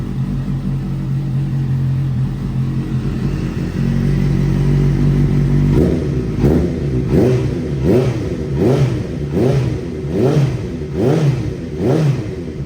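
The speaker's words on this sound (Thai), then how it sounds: "เดี๋ยวสตาร์ทให้ฟัง สตาร์ททีเดียวติดนะครับ" A 2015 Honda CBR650F motorcycle with an aftermarket Akrapovic exhaust cranks and catches, settles into a loud rumbling idle, then revs up repeatedly in rhythmic throttle blips, close by.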